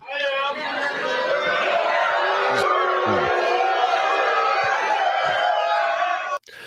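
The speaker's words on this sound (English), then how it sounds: "Listen to how charged up the crowd is." A charged-up crowd at a Donald Trump event roars with dense shouting, cheering and heckling voices, loud and continuous before cutting off abruptly near the end.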